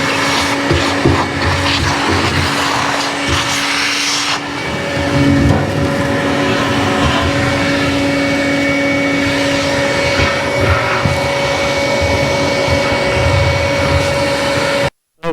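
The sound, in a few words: shop vac vacuuming metal shavings out of fuel tank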